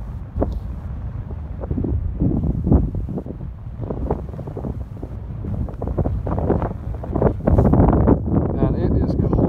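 Gusty wind blows at Big Bear Lake as a cold storm rolls in over the mountains, buffeting the microphone in loud, uneven rumbling bursts across the whole stretch.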